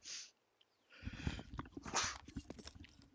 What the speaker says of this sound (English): I do apologize, I just sneezed